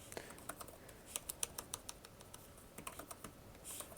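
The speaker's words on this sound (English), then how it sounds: "Keyboard feels nice." Typing on the keyboard of an HP Chromebook x360 12-inch 2-in-1 laptop, with quick, light key clicks landing in an uneven rhythm over four seconds. The taps are close and fairly quiet, and no one speaks.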